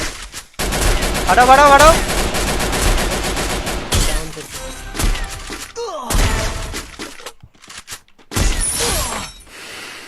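Bursts of rapid gunfire and loud shots crackle in a shooting video game, with automatic fire and sharp impacts in irregular clusters over a few seconds while players talk over it.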